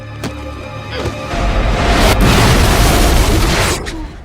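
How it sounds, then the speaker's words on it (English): A deep, rumbling explosion in the 2004 film The Butterfly Effect bursts in after a couple of sharp pops, rolling on loudly for a few seconds before fading. "that explosion didn't look very good, though"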